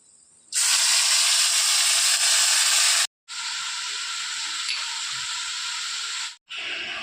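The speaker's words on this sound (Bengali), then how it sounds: "পেঁয়াজ বাটাটা আমি দিয়ে দিচ্ছি।" Onion paste dropped into hot oil bursts into an intense, close, steady hiss that holds for a few seconds, breaks briefly, resumes just as strongly, then pauses again before returning.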